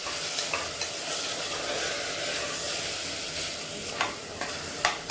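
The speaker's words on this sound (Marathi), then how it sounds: "व्यवस्थित आपण हे तेलामध्ये परतून घ्यायचं आहे।" Salted, turmeric-rubbed mutton sautéing in oil hisses in a dense, even sizzle, joined near the end by a few quick scraping stirs of a spoon.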